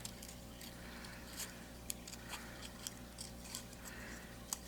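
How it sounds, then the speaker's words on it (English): Paper being snipped with scissors while making a gatefold card, a series of faint, sparse cuts and crisp clicks over a quiet room hiss. "take your snip, like that."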